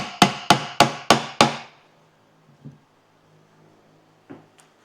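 Five evenly spaced, sharp metallic taps as a Toyota Hilux front differential is knocked down onto its dowels, close and loud, followed by a couple of faint knocks after a pause.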